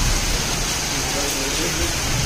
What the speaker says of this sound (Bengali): এই যে দেখেন কত জোরে বৃষ্টি আসছে